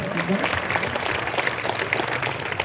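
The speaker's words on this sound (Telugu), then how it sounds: "గట్టిగా చప్పట్లు కొడుతూ దేవుని కొరకు తెలియజేసుకుందాం" A church congregation claps loudly and continuously during a Lent service, a dense wash of applause with voices mixed in.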